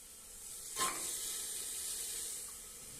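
Cooked rajma kidney beans tipped into a hot pan and stirred, a brief splashing burst followed by a steady soft sizzle and faint stirring, with no talk.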